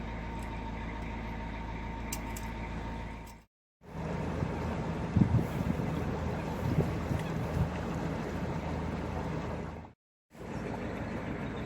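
A narrowboat engine chugs at a low, steady idle while motoring out of a marina, with faint water and wind noise, broken by two brief silences.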